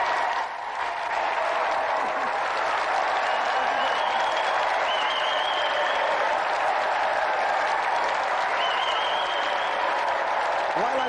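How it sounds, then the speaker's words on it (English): Studio audience applause on a British television games show, a steady wash of clapping that holds evenly for about eleven seconds, with some cheering or voices mixed into the crowd. "Let's have another round of applause for Auntie Marisha and our special guest, East 17."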